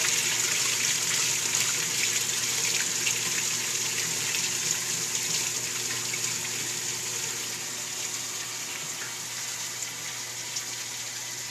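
Water pours steadily through a Cetus sieve open drain while the pump is pinched back, a continuous even rush that eases slightly partway through.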